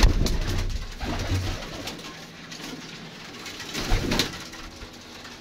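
Pigeons coo in low, soft repeated calls, close by, with faint background noise around them during an early morning.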